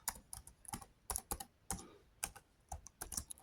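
Computer keyboard typing in short irregular bursts of crisp key clicks with brief pauses, close and fairly quiet, no talk.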